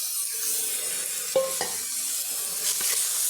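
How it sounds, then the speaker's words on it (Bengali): A radish curry fries in a wok while a spoon stirs it, with a low sizzle under a few sharp metallic scrapes and knocks, and no one speaking. "তাড়াতাড়ি নাড়াচাড়া করে দিচ্ছি আর"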